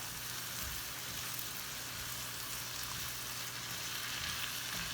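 Sauerkraut browning in a pan gives off a steady, dense sizzle that is loud and continuous, with light stirring underneath and no voices.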